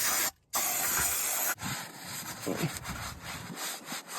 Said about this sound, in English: I'm gonna hit this with the brake clean again.